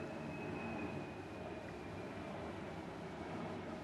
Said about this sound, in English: Jet going overhead.